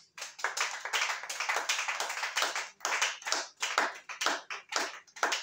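A church congregation claps in rhythm during worship, a close run of irregular handclap bursts with brief gaps, fairly loud and alone without talk.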